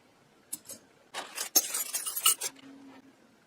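Ornate Franklin Mint pewter collectible spoons are handled, producing close, bright metallic clinks and scraping rattles in a quick cluster, then a faint ringing tone as they settle.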